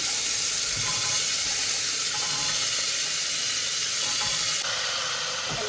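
Kidney beans tipped into a pan of onions already fried red, giving a steady, loud sizzle and hiss that holds throughout, close up with no talking.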